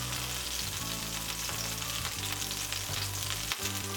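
A steak sizzles in a hot pan, a dense, steady crackling hiss up close that persists throughout.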